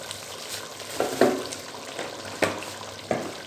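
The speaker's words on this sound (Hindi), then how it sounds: "बस इसे मैं अच्छे से मसाले को भून रही हूँ इसके चिकन के साथ।" Spice masala fries with chicken for a chicken karahi, giving a soft steady sizzle with a few louder stirring scrapes and clatters, close and alone with no talk.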